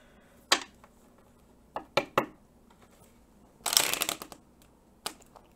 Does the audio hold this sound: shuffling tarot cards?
yes